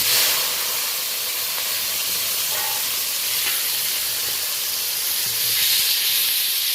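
Green chillies, chopped tomato and grated onion land in hot oil that has already been tempered with spices, setting off a loud, steady steam-like hiss and sizzle that holds for several seconds with no one talking.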